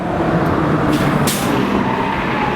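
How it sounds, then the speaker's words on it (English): A city bus rolls along a New York street, a loud broad rumble of road and engine noise with a brief hiss of air partway through, heard close and continuous. "See that bus?"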